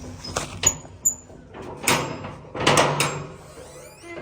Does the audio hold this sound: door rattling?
yes